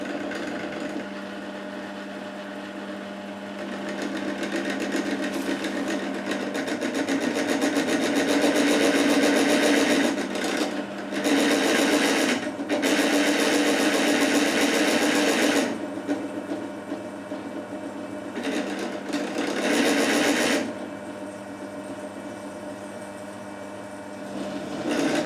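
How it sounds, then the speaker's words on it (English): A drill press runs steadily with a grinding, whirring drill noise that swells louder through the middle while drilling round bar, then settles back to a motor hum. "And then we can proceed to drill the hole."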